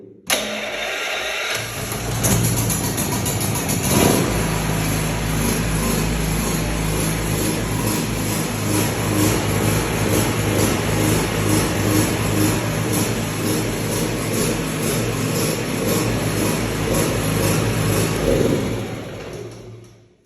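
Attlas MP3600E petrol generator with electric starter kicks into life after a brief start and then runs steadily for the rest of the stretch, a loud, continuous engine drone close by with no talking.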